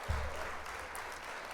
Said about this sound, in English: Gonna go ahead and hit the applause.